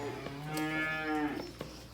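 A heifer lowing inside a barn heifer shed, one long loud, close moo that swells and fades, with faint barn noises around it.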